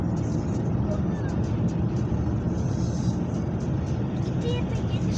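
A car drives through a road tunnel in a Norwegian snowstorm, its engine and road noise a steady, loud rumble with people talking inside the car.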